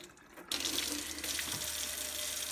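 A kitchen tap turns on and runs steadily while hands are washed under it before peeling potatoes and carrots, a loud close gush of water with no speech.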